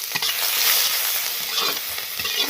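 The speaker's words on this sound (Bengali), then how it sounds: "পেঁয়াজগুলো লাল লাল করে ভাজা হয়ে গেছে" Chopped onions frying in oil with bay leaf in a pan, a loud continuous sizzle broken by scraping spatula strokes as they are stirred, no voices.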